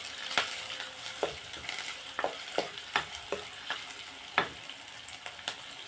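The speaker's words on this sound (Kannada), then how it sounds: "ಇದು ಸ್ವಲ್ಪ ಲೈಟ್ ಬ್ರೌನ್ ಆಗೋ ತನಕ ಫ್ರೈ ಮಾಡ್ಕೋಬೇಕು." Egg masala ingredients frying in a pan until light brown, with a steady sizzle and a series of sharp scraping and clacking hits as the mix is stirred, close and alone with no talk.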